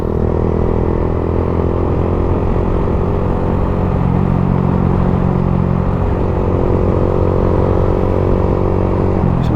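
A motorcycle rides at night through Baluran forest, its engine droning steadily and close for the whole stretch, with wind noise and no voices.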